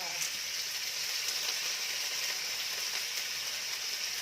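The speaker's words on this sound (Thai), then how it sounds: "ผัดพริกกระเทียมให้หอมก่อนนิดนึงจ้า" Chili and garlic stir-fry in a hot pan for a squid dish, giving a continuous bright, close sizzle with faint crackles throughout.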